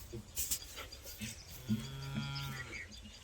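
Cattle in a Gujarati village low several times, a drawn-out moo rising clearly in the middle and trailing off, with rustling and faint outdoor background around it.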